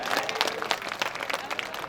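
Audience applause at a BJP party workers' conference, where a senior legislator recites rhyming verses; a dense, steady patter of many hands clapping fills the whole stretch at moderate loudness.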